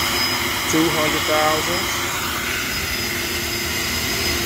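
A cylinder head flow bench testing stock small-block Ford TFS 170 heads draws air with a loud, steady, close rushing roar. Someone briefly talks over it.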